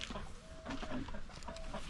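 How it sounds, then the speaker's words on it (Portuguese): A free-range hen brooding on her nest gives soft, low clucks and short drawn-out calls at irregular intervals. The sound is close by, with faint background noise and no talking. "a galinha chocando aí, ó. Que beleza, ó. Coisa linda. Galinha caipira."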